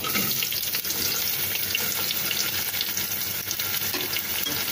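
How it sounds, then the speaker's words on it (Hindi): Onions sautéing in a pan for mutton keema give a steady, close hiss and sizzle with faint stirring scrapes, continuous and even throughout with no talking. "प्याज को हम हल्का सा सोटे कर लेंगे"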